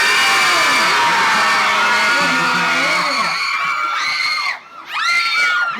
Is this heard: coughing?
no